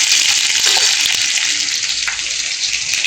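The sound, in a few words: frying in a pan for chicken curry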